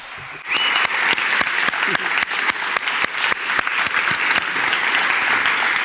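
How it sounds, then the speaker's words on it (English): An audience at an environmental conference applauds a farming association, a dense and loud burst of clapping that starts abruptly and holds steady, with sharp individual claps standing out near the front. "I invite you to give these people a round of applause"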